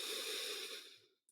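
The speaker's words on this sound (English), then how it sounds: "Take a nice breath in." A slow, deep breath drawn in during a guided meditation, a soft close airy rush lasting about a second before fading, followed by a brief faint click.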